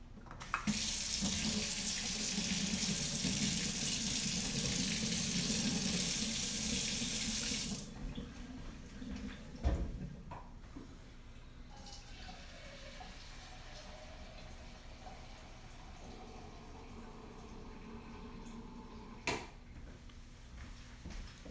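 Super hot water gushes loudly from a tap into a sink for about eight seconds, then shuts off, leaving a quieter room with a few faint clunks.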